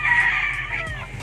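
Chickens on a Filipino poultry farm holding thousands of birds, a close, loud crow with clucking from the flock, lasting about a second.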